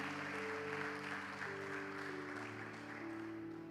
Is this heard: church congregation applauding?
yes